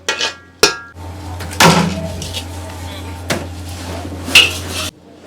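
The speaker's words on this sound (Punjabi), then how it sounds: "ਹੁਣ ਫੱਟੇ ਤੇ ਇਸ ਨੂੰ ਪਲਟਿਆ ਗਿਆ" A sticky mass of jaggery and puffed grain is flipped onto a wooden board, giving a couple of sharp close thuds and clatters followed by lighter knocks over a steady low hum.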